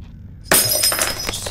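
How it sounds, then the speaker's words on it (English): A light bulb smashes in the horror game Summer of 58: a sudden, loud glass shatter breaks out of near silence, followed by scattered tinkling fragments that trail off. "I got scared by a smashing bulb"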